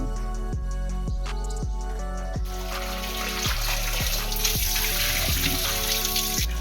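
Fish being washed under running tap water while preparing an Odia fish masala curry: a steady, close gush of water with splashing and rhythmic handling, no talking.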